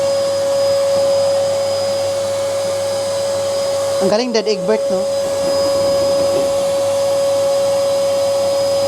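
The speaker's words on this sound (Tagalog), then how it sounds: "Mapuno na yung vacuum na yan. Puno ng dust." A vacuum cleaner with its container filling up with dust runs loudly and steadily throughout, with a short stretch of people talking over it midway.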